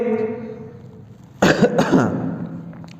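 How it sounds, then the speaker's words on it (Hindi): A single sharp cough from a person still unwell bursts out up close, cutting in after a stretch of steady background tone and trailing off with a rough breathy tail. "तबीयत खराब अभी तक गई नहीं है खांसी।"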